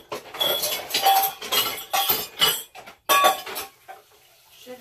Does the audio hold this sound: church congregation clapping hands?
no